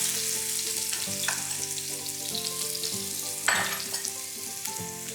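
Ginger-chili-garlic paste sizzles in a hot pan for pasta, a loud close crackle with stirring sounds, while tonal background music plays underneath.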